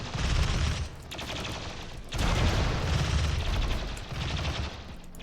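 Rapid gunfire from colonists shooting raiders in the video game RimWorld, dense bursts of shots in a loud sustained fusillade with a brief lull partway through.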